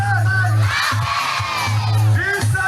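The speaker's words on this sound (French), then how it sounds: "L'annonce de la réhabilitation de la RN10 a été reçue avec joie par une foule euphorique" A euphoric crowd in Ampani district, Madagascar, cheers and shouts loudly at the announcement of the RN10 road rehabilitation, with sustained massed voices and whoops rising and falling throughout.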